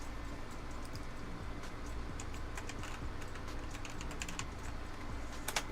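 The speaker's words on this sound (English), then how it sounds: "typing in the wrong one" Keys tapped on a computer keyboard in quick irregular clicks, faint over a steady hum, with a couple of sharper strokes near the end and no talking.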